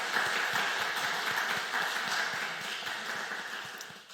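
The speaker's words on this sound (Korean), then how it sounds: "오늘 헌신 예배 드리는 청년들을 위해서 다시 한번 축복하는 박수 한번 하도록 하겠습니다" A church congregation at a Wednesday youth dedication service applauds together, a dense, steady wash of many hands clapping that holds evenly at moderate loudness and tapers slightly at the end.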